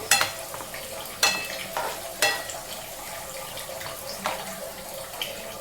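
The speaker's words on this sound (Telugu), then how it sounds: "జీడిపప్పు, కిస్మిస్, ఎండు కొబ్బరి అండి వేసుకొని వేయించుకున్నాను." Cashews, raisins and dry coconut fry in a pan for sago and vermicelli payasam. A spoon scrapes and clinks against the metal in several sharp strokes over a soft, steady sizzle, close and fairly quiet.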